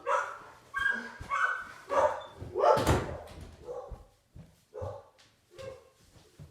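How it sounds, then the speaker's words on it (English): Dogs bark repeatedly in short, irregular bursts at moderate distance, with a few yips mixed in and no talking. "Sorry if you can hear my dogs barking."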